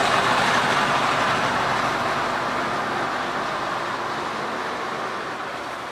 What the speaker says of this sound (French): Un ancien bus circulant aussi ce jour-là d'anniversaire.